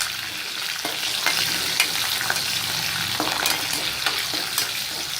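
Chopped ginger hits a hot frying pan with green chilli and curry leaves while making broken rice upma, giving a steady close sizzle with scattered stirring clicks throughout.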